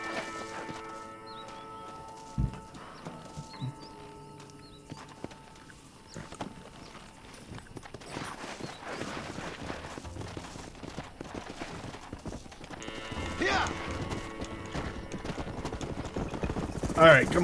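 A horse trots along in Red Dead Redemption, its hoof clip-clops running steadily and fairly faint under game music and effects, with a few louder knocks and a brief neigh near the end.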